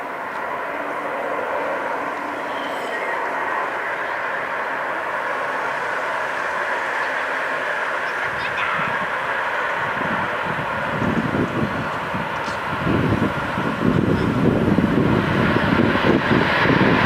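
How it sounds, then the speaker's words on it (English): An Airbus A350 lands in a crosswind at Amsterdam Airport. A steady jet engine roar holds throughout, then deep rumbling swells up near the end as the aircraft touches down. "This Airbus A350 battling a crosswind at Amsterdam Airport."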